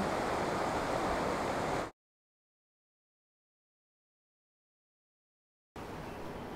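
The wide, swollen Ubaye river rushes loudly in the mountains, a dense steady roar that cuts off abruptly into silence for several seconds before returning.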